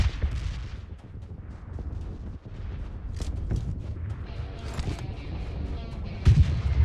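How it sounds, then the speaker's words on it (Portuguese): Explosions and booming gunfire from the battle game PUBG Mobile rumble through a dense, low, noisy mix, with a heavier blast near the end. "explodiu aqui perto"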